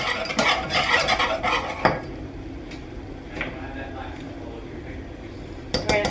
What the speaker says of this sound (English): We're gonna cook this for about 2 minutes, whisking it.